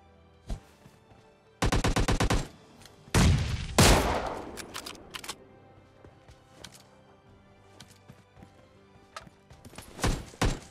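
Gunfire from a sniper rifle in a first-person shooter video game, heard as sharp bursts of loud, rapid shots, one after another with short gaps between them, and no talk.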